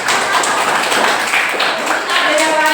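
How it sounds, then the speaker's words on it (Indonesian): Students clap their hands in a classroom, a dense, steady round of applause lasting the whole moment, with voices mixed underneath. "tepuk tangan"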